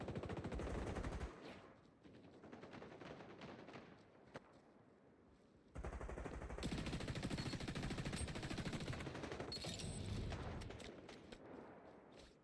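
Assault rifle fire in the XDefiant shooter game: rapid automatic bursts of gunshots separated by short lulls, fairly quiet overall, with a dense stretch of continuous firing near the end.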